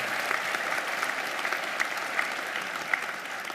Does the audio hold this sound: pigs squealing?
no